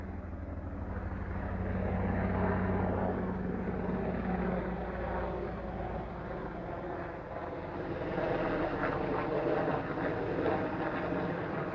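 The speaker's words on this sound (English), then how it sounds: "Ooh, there's a helicopter." Helicopter passing overhead near Otter Creek, a broad low rumbling rotor and engine drone that swells and lingers steadily throughout, fairly distant and faint.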